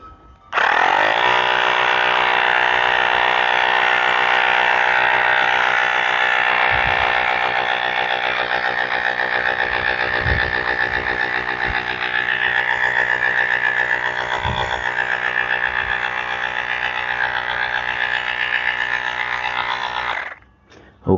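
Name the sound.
electric air pump inflating a trike tire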